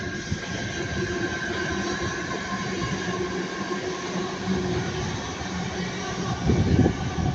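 Pair of Northern Class 323 electric multiple units, 323217 and 323206, running from Blackpool North to Manchester Airport, passing with a steady rolling rumble and electric whine that swells near the end.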